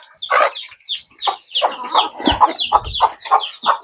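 Several chickens cluck close by in quick, overlapping bursts, with a soft low thump partway through.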